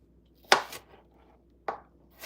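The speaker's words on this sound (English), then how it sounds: "I hate chopping onions." Knife chopping onions for homemade salsa, three sharp cuts landing on a board at uneven intervals, close and crisp against a quiet kitchen background.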